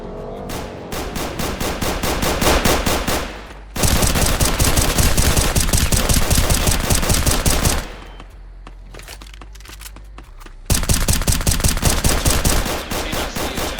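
Rapid automatic gunfire from a Glock fitted with a drum magazine in a video game, loud continuous bursts that stop briefly and start again, close and dominant with no talking.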